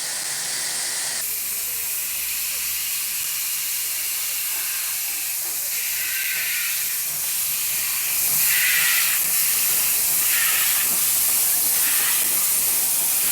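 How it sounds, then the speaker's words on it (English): Garratt articulated steam locomotive on a weed-grown RENFE line in Spain, standing and hissing steam in a loud, steady broadband wash that swells in bursts and stays close throughout. "the Garratt picks its way through the weeds before setting off on the return trip to Lerida"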